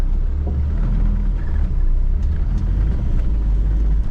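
A standard Suzuki Jimny Katana crawls offroad with its engine holding a steady, loud, low rumble close by, along with faint bumps and rattles from the rough ground.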